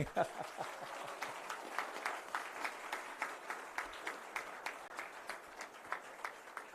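A small audience at a sailing club gives brisk applause for a member, the claps distinct and steady, moderately near, with a few voices mixed in.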